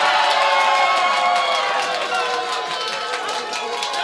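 Crowd cheering and shouting at a robot combat event, a loud sustained roar of many voices filling the whole stretch without pause.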